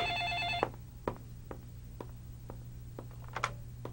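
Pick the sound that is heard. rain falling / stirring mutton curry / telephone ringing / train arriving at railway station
telephone ringing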